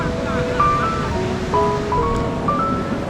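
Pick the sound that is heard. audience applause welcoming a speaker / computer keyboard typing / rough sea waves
rough sea waves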